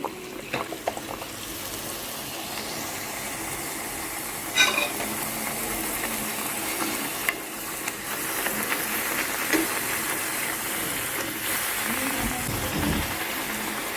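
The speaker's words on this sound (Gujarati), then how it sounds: "તેલ આવી ગયું છે હવે એને ઉમેરી દઈએ છીએ" Rajgira fasting puri frying in hot oil, a steady broad sizzle and bubbling hiss that carries on throughout, with a few small clinks and stirs along the way.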